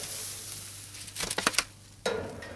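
Barbecue pork spareribs being lifted off a grill, with faint sizzling under a few sharp scraping and clattering knocks, then a louder burst of hissing sizzle near the end.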